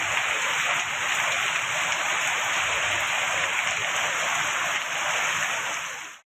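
Steady, dense roar of heavy rain during a thunderstorm, constant wide-band hiss that stays loud without breaks and then cuts off suddenly, with no voices over it.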